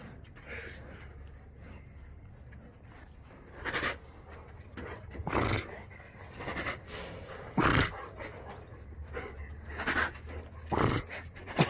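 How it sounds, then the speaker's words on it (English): A small dog pants in quick, breathy bursts, close by, with a few louder huffs and snuffles over a low background hum. "Diego, look at this little doggy"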